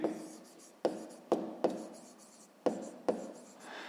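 Pen or chalk writing numbers by hand during a math lesson: six sharp taps and scratches at an irregular pace, close and fairly quiet, with no talking.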